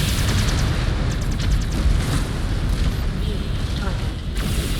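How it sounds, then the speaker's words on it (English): Explosions in the MechWarrior 5 Clans video game boom amid continuous heavy rumbling combat noise, with a deep sustained roar that stays loud throughout and faint mechanical clatter on top. "Explosion imminent."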